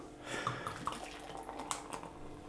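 Belgian white beer poured into a branded Hoegaarden glass, a short liquid splashing and gurgling with a few bright glassy clinks, close and fairly quiet, with no talking.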